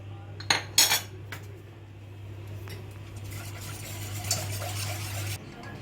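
A metal spoon stirring milk in a pot on the stove while making a banana caramel milk pudding, a few sharp clinks against the pot at the start, then softer continuous scraping and swirling, close up with a low steady hum underneath.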